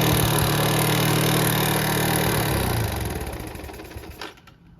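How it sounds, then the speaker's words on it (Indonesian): A motorcycle engine that emits white exhaust smoke runs loud and rough like a sewing machine, with a rapid, clattering rattle, then fades and trails off near the end. "suara mesinnya pun kayak mesin jahit lekku, kasar suaranya"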